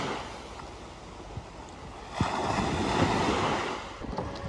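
Ocean waves wash onto a beach on Redang Island, Malaysia, a steady surf roar with wind buffeting the microphone and a swell of breaking water near the middle.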